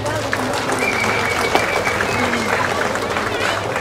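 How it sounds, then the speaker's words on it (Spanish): At a community handover of auxiliary authorities in San Sebastián, Huehuetenango, a crowd claps in steady applause, with voices heard faintly underneath. "un fuerte aplauso"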